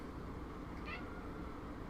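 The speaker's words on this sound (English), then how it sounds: "Kitty wants to talk to me." A house cat gives a single short meow against a steady, noisy room background, fairly faint and alone without speech.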